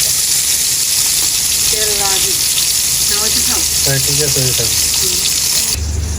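Food frying in hot oil, a loud continuous hiss and crackle close by, with a voice speaking over it in short phrases.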